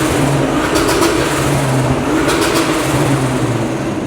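A car accelerates away, a loud continuous engine roar with rising and falling revs as it pulls off, heard close and without talk.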